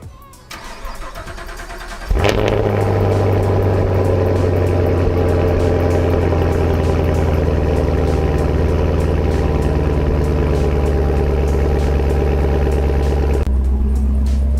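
A car engine cranks and fires up, then settles into a loud, steady idle with a deep, booming exhaust drone that holds close and constant for over ten seconds.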